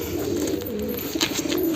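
A pet pigeon coos close by in a low, steady, rolling murmur that carries through the short stretch without pause.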